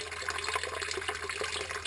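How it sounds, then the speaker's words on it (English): Water pours steadily into a basement sump pit, fed by a perimeter channel drain system two days after rain, a continuous close splashing trickle with no talking. "Water's just pouring into the pit."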